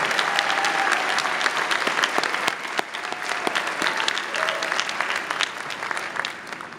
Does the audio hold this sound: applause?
yes